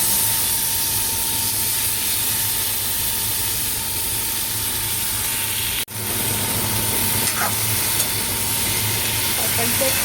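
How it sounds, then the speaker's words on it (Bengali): Potato and pointed gourd frying in a little oil in a pan on an induction cooktop, a steady, close hiss and sizzle running throughout with one brief dip partway through. "তরকারিটা একটুখানি কয়েক সেকেন্ড একটুখানি ভেজে নেব।"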